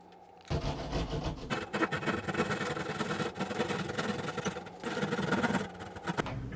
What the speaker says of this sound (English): mark it, and then I'll cut it out with a saw